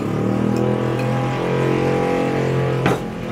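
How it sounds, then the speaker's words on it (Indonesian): A motorcycle engine idles and revs steadily up close, a continuous loud drone with a brief sharper burst near the end. "Bisa diem nggak nih motor?"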